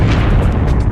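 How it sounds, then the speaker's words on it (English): A supernova explosion rendered as a deep, rumbling boom fills the whole moment with dense, loud low-end roar and crackling bursts, sustained without pause. "the outer layers fall in on top of it and bounce outward in a tremendous explosion"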